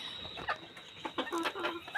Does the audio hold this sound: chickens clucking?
yes